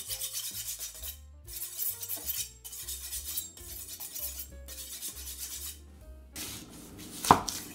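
Zucchini, cabbage and onion are chopped on a cutting board with a knife, giving rapid rhythmic thuds in several bursts separated by short pauses, close and clear over soft background music.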